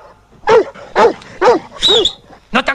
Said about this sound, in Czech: Zažeň toho psa.